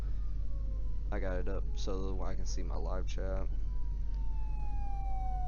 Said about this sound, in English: if you hear a siren in the background right now, that is the other live stream I got up